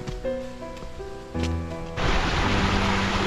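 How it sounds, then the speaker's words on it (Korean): Lively rushing water of a rain-swollen mountain stream on Bukhansan in autumn, a broad steady wash that swells louder partway through and continues close and full, without talk. "시내 물살이 참 경쾌하네요"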